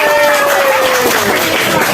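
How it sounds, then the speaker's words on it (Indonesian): A classroom of students claps hands together, a brief burst of loud, fast applause mixed with children's voices. "Tepuk tangan dulu"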